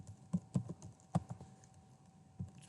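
Quiet keystrokes on a computer keyboard, a handful of soft irregular taps spread over a couple of seconds, with a faint steady hum underneath.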